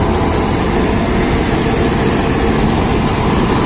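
A John Deere 5310 tractor-mounted corn harvester, a black-engine model, runs steadily during a white country corn harvest, giving a loud, unbroken engine drone with a broad mechanical roar close by.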